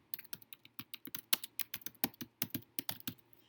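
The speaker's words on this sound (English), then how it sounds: "And I'm just going to type right into the document." Typing on a computer keyboard, a quick irregular run of sharp clicking keystrokes close to the microphone, with no voices.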